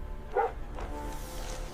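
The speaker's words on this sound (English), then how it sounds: "The meerkats answer with short, sharp warning barks" A meerkat gives one short, sharp warning bark near the start, followed by a fainter second call over a low rumbling background.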